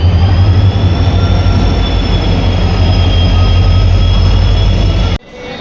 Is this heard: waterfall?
no